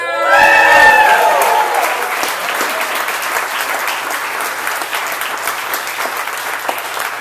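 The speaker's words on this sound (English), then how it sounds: "She clapped now" An audience at a poetry reading in the FSU Warehouse breaks into sustained applause that stays loud and dense for several seconds, with a brief whoop at the start and a voice mixed in.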